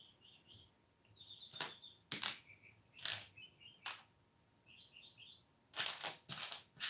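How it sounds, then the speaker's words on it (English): Small birds give short bursts of high chirps and tweets from a dead tree, scattered with pauses, over quiet background with a few sharp knocks. "They are happy birds in a dead tree, I'll tell you that."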